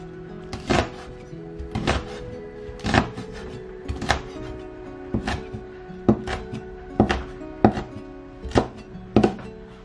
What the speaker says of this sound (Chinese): 把它切成小圈